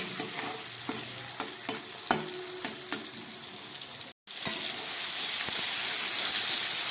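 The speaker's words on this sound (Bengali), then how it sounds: "টমেটো আর ক্যাপসিকামটা অনেকটাই ভাজা হয়ে গেছে" Tomato and capsicum fry with a little salt in a pan for a vegetarian chilli paneer: a steady sizzle under repeated spatula taps and scrapes, with a momentary dropout midway.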